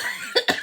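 Two or three short, raspy coughs in quick succession, close and fairly loud, with no talk.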